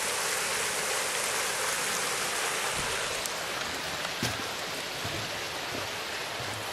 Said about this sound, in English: And waterfall here. So just down there is waterfall.